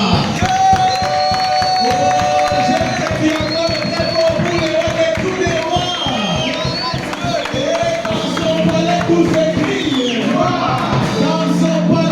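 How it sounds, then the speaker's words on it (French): A church congregation cheers and acclaims at a New Year service, a continuous, loud crowd roar with whoops, shouts and scattered clapping under sustained organ-like music, carrying on throughout. "je souhaiterais que tu acclames pour les rois de tous les rois"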